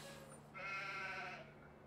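A single sheep bleats in the video game Farming Simulator 17, a short, faint bleat over a quiet background hum.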